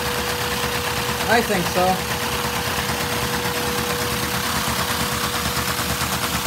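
A Lego inline-four vacuum engine with a ten-speed transmission chugs steadily, a dense continuous rapid mechanical patter close by, with a brief remark spoken over it.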